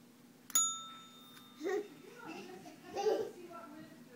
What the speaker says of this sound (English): That's your bell.